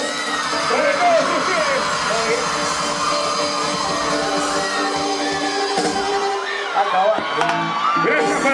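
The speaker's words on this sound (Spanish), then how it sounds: "¡Los aplausos!" Live concert audience cheering, whooping and yelling in a dense, loud wash of crowd noise that holds steady throughout, with scattered shouts rising above it and no distinct clapping.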